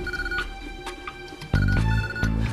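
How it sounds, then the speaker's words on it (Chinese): A telephone rings with an incoming call in a staged military command post scene, its electronic tones ringing steadily and up close, growing noticeably louder partway through, with no one talking. "上海来电了，首长，上海来电了"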